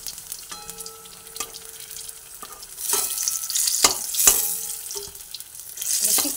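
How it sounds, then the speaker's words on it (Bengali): Pointed gourd (potol) pieces frying in hot oil, a steady sizzle broken by several sharp clattering stirs and utensil knocks that grow louder toward the end, with no talking. "এবারে বাদবাকি পটলগুলো তেলের মধ্যে দিয়ে ভেজে নিচ্ছি।"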